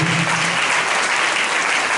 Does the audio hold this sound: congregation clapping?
yes